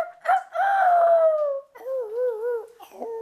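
A human voice imitates a rooster crowing with a few drawn-out, wavering cock-a-doodle-doo calls, close and fairly loud, separated by short gaps.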